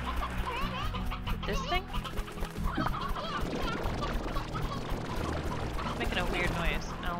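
Chickens in the video game Slime Rancher clucking and squawking in a busy, continuous flock chatter, close and fairly loud, while a person talks over it.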